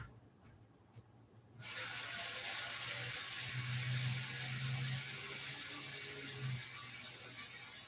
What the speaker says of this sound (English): I'm going to have to go rinse this real quick.